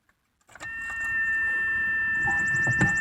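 A key jingles into the ignition of a V8-swapped Mazda RX-7, followed by a steady electrical whine and chime tones, with a brief mechanical knock near the end.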